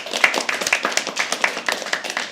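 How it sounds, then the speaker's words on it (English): Applause from an audience at a live poetry open mic at The Habitat, a short burst of scattered hand claps, fairly close and lively, without talk. "Round of applause."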